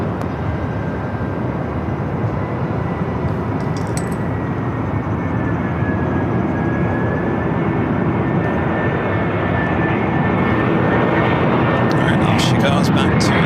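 Airliner taking off at Los Angeles LAX, a steady broadband engine roar holding throughout and swelling slightly toward the end, with a faint whine running across it and radio voices talking over it.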